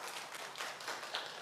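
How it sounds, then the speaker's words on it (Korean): Church congregation clapping their hands together, a short, dense burst of applause from a crowd, heard alone without talk. "박수 한번 쳐주세요."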